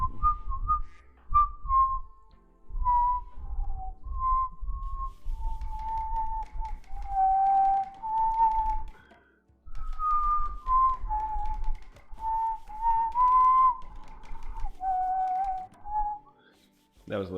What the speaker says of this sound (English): Very breathy whistling. Flat and breathy.